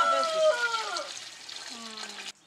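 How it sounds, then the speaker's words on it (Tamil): Water poured into a cooking pot outdoors in a village kitchen while making mutton biryani, a short gurgling splash with rising pitch over about two seconds, with voices talking over it. "தண்ணி ஊத்துறேன்"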